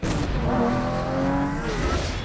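A Lamborghini sports car drives by in a movie trailer, its engine droning loudly and steadily with a rising, revving tone and a brief hiss at the start, with no voices over it.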